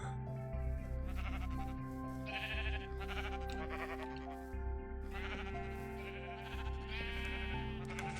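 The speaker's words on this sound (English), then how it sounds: "The sheep farms." Many farm sheep in a video game bleat over and over, their overlapping calls forming a dense, continuous chorus.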